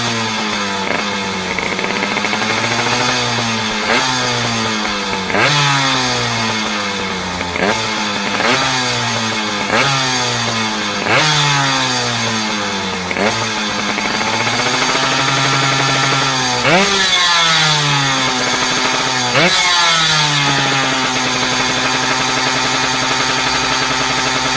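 Scooter engine fitted with a Malossi kit, revving in repeated rising bursts with a rough, scraping, buzzy tone, loud and close, with no voices over it.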